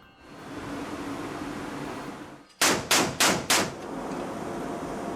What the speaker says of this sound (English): It consists of an M242 Bushmaster chain gun mounted on a turret